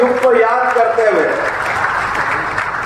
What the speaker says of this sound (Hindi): जोरदार ताली बजा अपने उस युग को याद करते हुए।